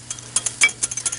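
Spoon stirring softened cream cheese into warm broth, a quick run of light clinks and scrapes of metal against the bowl, close and clear with no talking.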